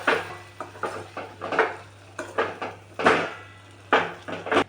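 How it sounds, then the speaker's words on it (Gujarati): Boiled potatoes and other ingredients being stirred in a pan, a run of clattering scrapes and knocks of a utensil against the pan in irregular bursts, close and alone over a low steady hum. "હવે આ બધી વસ્તુને સરસ રીતે મિક્સ કરી લઈશું"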